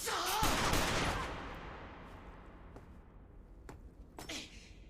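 A burst of gunfire from an anime episode crackles at the start and trails off, followed by a few isolated sharp cracks later, distant and moderately faint with no talking.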